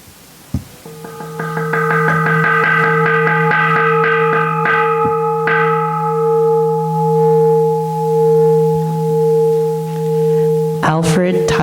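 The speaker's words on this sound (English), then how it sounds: "he will hit the gong several times" A gong struck during a Buddhist memorial Dharma service, giving a loud strike followed by a long, ringing sustained tone with a second strike midway, slowly fading and pulsing in the hall.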